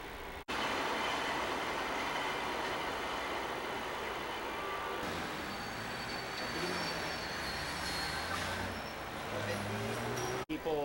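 Steady rumble and roar inside a 1986 TGV high-speed train pulling out of Paris, continuous rail and wheel noise filling the whole stretch with brief tonal squeals near the end and faint background voices.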